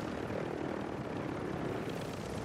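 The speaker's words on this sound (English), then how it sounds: "And they shot down the heli." A helicopter's steady rotor and engine roar in a video game after it is shot down, a continuous dense wash of noise held at a constant level for the whole moment, with no talking.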